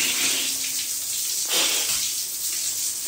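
Shower water running steadily at a beach campsite in Calatagan, Batangas, a continuous close hiss of spray with a brief surge near the middle and no talking.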